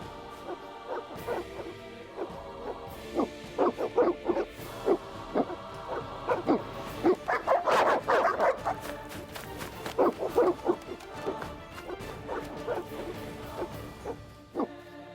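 Evil dogs in The Witcher video game bark in repeated sharp bursts with whimpering yelps between them, close and loud, the barking thickening into a frantic cluster midway before thinning out.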